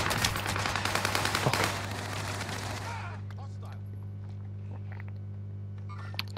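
Rapid machine gun fire in an online multiplayer shooter game, a dense burst of loud shots for about two seconds that stops, followed by quieter game background.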